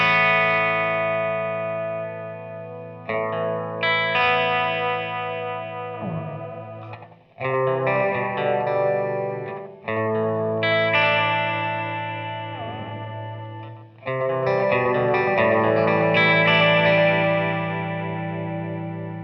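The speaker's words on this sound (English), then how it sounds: "it has some pretty fair chorus sounds all on its own" Electric guitar through a Mr Black Downward Spiral delay pedal's chorus sound: chords and riffs with a shimmering chorus-like modulation, played in several sustained phrases with short breaks between them, loud and close.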